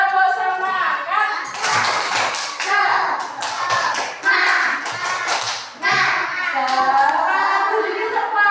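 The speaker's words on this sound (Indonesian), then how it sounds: "mari kita tepuk semangat dulu. Tepuk semangat." Schoolchildren in a classroom perform a rhythmic spirit clap, with sharp patterned handclaps running under loud group chanting that continues throughout.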